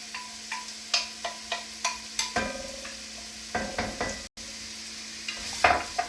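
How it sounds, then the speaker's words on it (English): Onion and pepper cook in hot olive oil in a pot over medium-high heat, giving a soft, steady sizzle broken by a run of sharp, regular spoon taps and scrapes against the pot. "we're just going to let that pepper and onion work into this oil till they just start to soften"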